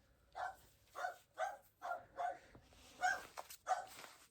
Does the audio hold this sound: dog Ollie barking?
yes